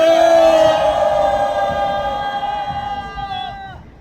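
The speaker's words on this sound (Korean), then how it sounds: "우리 모두 경례 함성화를 3초간 힘차게 외쳐주시기 바랍니다" A crowd at an outdoor rally in Gwanghwamun Square, Seoul, gives a loud, sustained shout of cheering that holds for about three seconds, then fades and breaks off.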